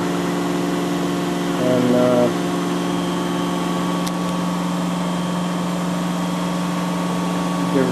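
New VMG624 motor idling steadily, a constant mid-pitched hum with an even drone, heard up close with a brief voice at the start.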